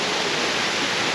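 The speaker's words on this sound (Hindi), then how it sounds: "एक वाटरफॉल वहाँ है" The Pandav waterfall in India produces a continuous, dense rushing roar of falling water, steady and fairly loud throughout, with no voices.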